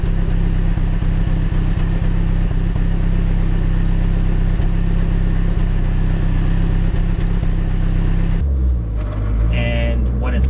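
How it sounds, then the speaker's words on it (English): A BMW E33 engine idles with a loud, steady low rumble and slight uneven pulsing, cutting off near the end into quieter sounds with a brief voice. "Let me show you now what the idle was like before."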